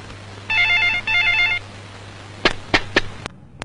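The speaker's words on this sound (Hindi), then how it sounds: "फोन कौन करे देख" A telephone rings twice in quick electronic bursts, followed by a few sharp clicks or knocks, all in a quiet room with no talk.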